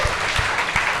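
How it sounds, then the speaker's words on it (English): Live show audience applauding, a broad steady wash of clapping from a crowd at a talk-show celebration, with faint low thumps recurring through the short burst. "Give him a round of applause."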